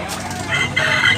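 A rooster crows at a poultry market in Tabunok, Cebu, a single loud call rising over a busy background of clucking fowl.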